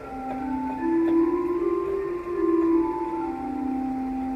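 Sustained pipe organ tones from an 8-foot stop hold steady with a slight swell, a mid-pitched pipe sound over faint room noise, no talking.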